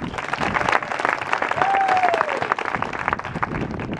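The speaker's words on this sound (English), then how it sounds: "give yourself a round of applause for that" Crowd of runners at the finish of the "Where's Franktown" races, a 2011 fundraiser, applauding themselves; dense, steady clapping fills the whole stretch at close range, with a brief whistle-like tone partway through.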